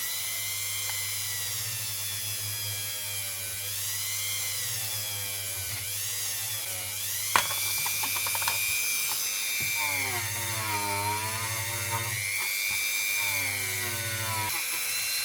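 Dremel rotary tool cleaning up a ring cut from a British two pound coin, a close, high whining grind that runs steadily, drops out briefly twice and resumes.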